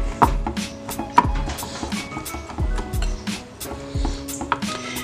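Dry ingredients for a blueberry cake being mixed in a bowl, a series of soft dull knocks and thuds with scraping between them, close up and with no talk.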